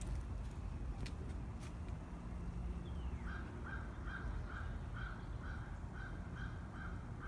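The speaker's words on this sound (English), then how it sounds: "You can also listen for the different birds." Outdoor garden ambience with a bird repeating a short, steady call at a regular pace, plus a few brief chirps early on, over a constant low background rumble.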